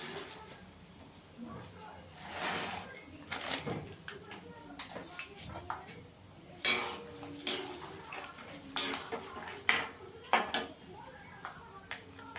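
Peanuts frying and being stirred in a pan while making chanachur, with intermittent metallic scrapes and clinks of the spatula against the pan over a faint sizzle, under a speaking voice.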